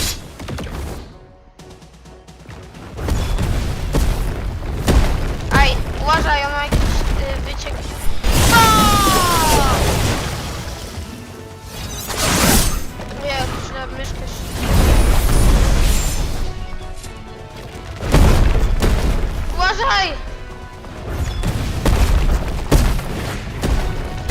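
Repeated booming explosions and mechanical clatter from a video game, several bursts spread across the stretch with loud swells between quieter gaps, while players talk excitedly over the action.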